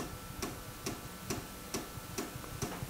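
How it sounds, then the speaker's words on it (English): An old computer's floppy drive loads a disk, giving off regular mechanical clicks about every half second, fairly faint and close, with no talk. "I put it on the floppy drive. It starts automatically to load it. It's very noisy, as you can hear."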